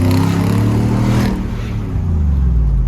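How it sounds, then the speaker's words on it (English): A Nissan Patrol Y62 SUV's bimodal cat-back exhaust, valves open, rumbles with a deep, steady drone, rising briefly as the engine revs, then settling into a crisp idle-like growl. "We've just finalised our bimodal exhaust system. Let's have a listen, eh? So this is with it open?"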